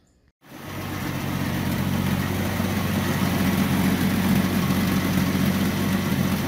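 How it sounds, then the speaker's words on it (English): A Ford Mustang engine with a freshly rebuilt carburetor fires up and settles into a steady, rumbling idle, running continuously and close by with no voices. "So carburetor installed, car is running"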